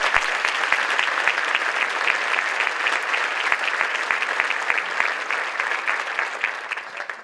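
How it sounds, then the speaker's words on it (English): Sustained, dense applause from a luncheon audience honoring teachers, steady and fairly loud throughout with no talk over it. "Please, everyone, give them a big round of applause."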